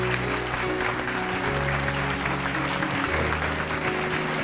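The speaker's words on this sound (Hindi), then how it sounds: "तालियों की गुड़गड़ाहट के साथ उनकी हम स्वागत करते हैं" A large audience claps to welcome Gurudev at a spiritual gathering, a thick continuous wash of applause at steady volume, with music or drones underneath.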